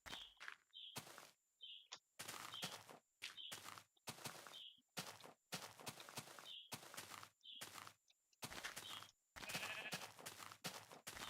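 Pink sheep in Minecraft bleat several times amid repeated bursts of footsteps, short clipped sounds separated by brief silences.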